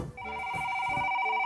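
A telephone rings with an incoming call, a steady electronic trill with bright, sustained tones that starts after a brief quiet moment and continues alone, close and clear.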